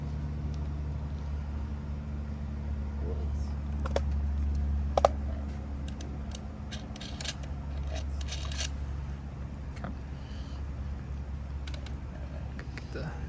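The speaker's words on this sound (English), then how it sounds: "it running with the drill and the tensioner going" A student-built stair climber robot runs with its drill motor and tensioner engaged, giving a steady low mechanical hum throughout, with scattered clicks and light handling knocks on top and faint voices nearby.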